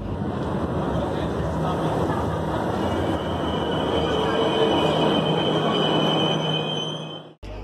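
A metro train runs through a Milan subway station with a continuous loud rumbling roar and faint wheel squeal, steady for several seconds before cutting off abruptly.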